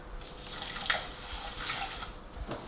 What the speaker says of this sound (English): I just pour that in, and then follow it up with a cup of soy milk